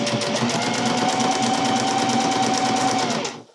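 A sewing machine stitches a quarter-inch seam in a fast, even run of needle strokes with a steady motor whine, close and alone for about three seconds before stopping.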